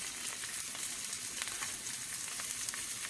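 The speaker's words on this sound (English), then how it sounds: "I'm just making a couple pork chops on a cast iron skillet inside." Two barbecue-sauce-marinated center loin pork chops sizzling steadily in a cast iron skillet indoors, a continuous even hiss with faint crackles throughout.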